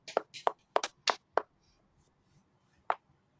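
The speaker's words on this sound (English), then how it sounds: "And please give a round of applause to our CA Atul Purani sir." Sparse applause at a meeting of a real-estate regulation study group: about seven quiet, sharp hand claps in a quick burst, then a single clap after a pause.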